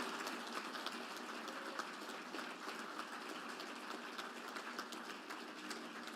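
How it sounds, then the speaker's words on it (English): Steady, dense applause from a large audience at a ship christening ceremony, continuous and even throughout, heard from some distance and fairly faint. "So all the individuals here that have NASCO Red Shirts, give them a great round of applause."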